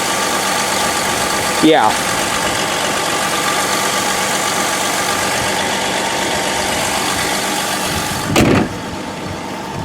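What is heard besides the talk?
2004 Ford Freestar 4.2 liter V6 engine idling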